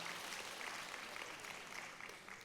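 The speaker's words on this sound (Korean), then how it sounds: "여러분 박수 한번 보내주십시오" An audience at a women's conference event clapping together, a brief, even burst of applause with no voices heard.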